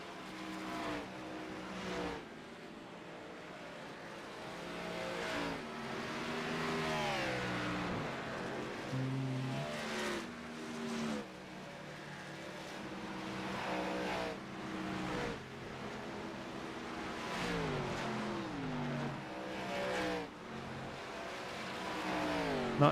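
Race cars circling Chicagoland Speedway in the iRacing game during an Xfinity Series event, engines droning and revving through shifting pitches as cars pass close, with no talk.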